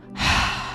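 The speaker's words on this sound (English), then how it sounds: "3 inhales, 1 big exhale, and we're releasing all the stress in our body" One big exhale during a relaxing breathing and stretch class, a single close, breathy rush of air that swells and then tapers off.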